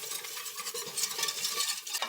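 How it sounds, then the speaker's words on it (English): A spoon stirs equal parts flour and butter into a roux in a pan, close scraping and swishing strokes over a faint sizzle, rhythmic and without speech. "it's equal parts flour to butter, so a half cup of flour. And we mix this up."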